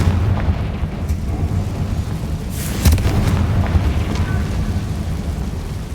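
The Confringo fire spell explodes in Hogwarts Legacy with a booming blast midway, over a constant rumbling game soundscape of crackling bursts.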